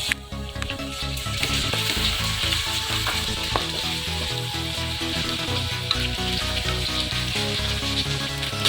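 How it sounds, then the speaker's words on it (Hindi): Tomatoes hit hot oil with frying ginger and garlic in a pan, giving a steady, loud, close sizzle with stirring clinks and scraping throughout, no talk over it. "चलिए हमारा अदरक लहसुन भी फ्राई हो गया, साथ में टमाटर शामिल कर रहे हैं।"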